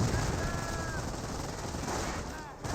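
Gunfire in the World War II strategy game Company of Heroes: a dense, continuous rattle of machine-gun and rifle fire with a rumbling backdrop that holds steady for nearly three seconds.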